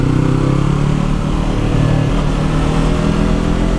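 A Yamaha R3 sport motorcycle is being ridden, its engine giving a loud, continuous mid-pitched drone with slight rises in revs, heard alone without talk.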